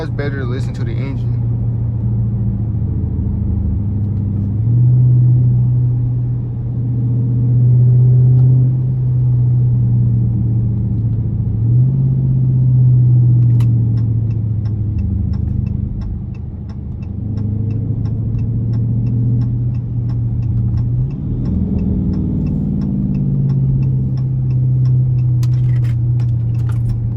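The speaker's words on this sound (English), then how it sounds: "This is why it's better to listen to the engine." A car engine hums low and steady from inside the cabin during a point-of-view drive using paddle shifters, its pitch swelling and dropping with gear changes, with faint ticking from the indicator partway through.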